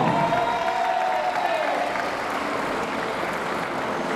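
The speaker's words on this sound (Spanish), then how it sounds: "fuerte el aplauso para Miguel Albariño" Audience applause rings out at the men's recurve gold-medal final of the Spanish national archery championship in Ibiza, a dense, steady wash of clapping filling the hall for several seconds with a faint whistling tone riding briefly over it.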